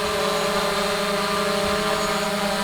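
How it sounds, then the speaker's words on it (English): A Hubsan Zino drone hovers over a landing pad at Lucky Peak, giving off a steady, continuous motor whine with a sustained buzzing hum that holds level throughout, with no talking. "And so the drone is kind of hovering."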